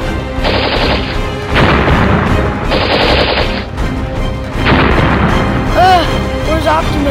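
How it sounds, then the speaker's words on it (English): Decepticon gunfire in an animated Transformers battle: loud repeated blasts and rattling bursts under a continuous din of combat, with voices speaking over the fighting and a few whooshing effects near the end. "Decepticons, keep firing."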